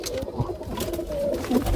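Jalali pigeons cooing inside a loft, a steady murmur of low rolling coos from several birds close by, with no talk over them.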